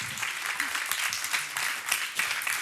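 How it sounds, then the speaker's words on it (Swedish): Audience applause at the close of a history lecture on Queen Filippa of Sweden, a brief burst of steady clapping from a modest crowd, moderately loud and even. "Jag tycker att vi avslutar med att ge Stefan en till applåd."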